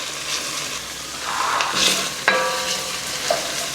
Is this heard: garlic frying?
yes